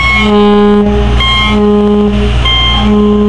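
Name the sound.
hoarse car horns honking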